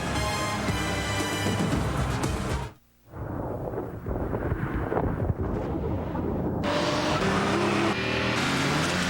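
A Lexus IS with a 215-horsepower VVTi engine drives through a TV commercial with a loud rushing roar. A brief silent gap interrupts the roar, which then returns with wind-like noise and a swelling engine sweep.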